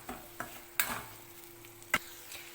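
Curry leaves stirred into a frying pan give a soft, quiet sizzle broken by a few sharp spoon clacks and scrapes against the pan, spaced irregularly over a couple of seconds.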